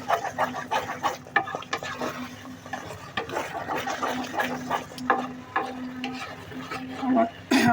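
A thick taro leaf stew is stirred in a pot, making repeated close scraping and sloshing strokes in an uneven rhythm, over a low steady hum.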